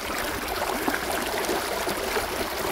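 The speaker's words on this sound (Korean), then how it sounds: "다리 밑 계곡에서 청량한 물소리 한번 듣고 갈까요?" A valley stream runs beneath a bridge on a busy hiking trail, a steady broadband rush of flowing water, close and even throughout with no pauses or voices.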